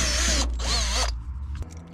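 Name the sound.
drill drilling out hole for headlight switch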